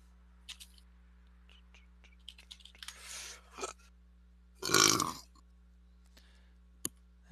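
A few soft clicks and small mouth noises, then one loud, close burp standing out clearly, followed by a single sharp click in an otherwise quiet room.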